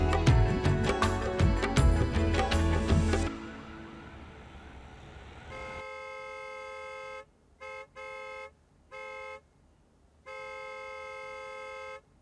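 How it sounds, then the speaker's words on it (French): A new car's horn honks several times in short and longer bursts, clear and fairly close, after a stretch of loud music fades out. No one speaks. "Qui a acheté cette nouvelle voiture et klaxonné contre?"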